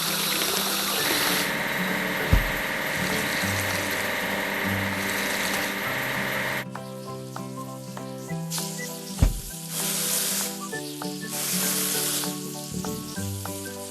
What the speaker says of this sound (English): We need to wash the sleeping car.